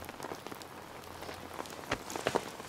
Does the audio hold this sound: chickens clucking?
no